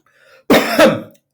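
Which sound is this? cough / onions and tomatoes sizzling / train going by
cough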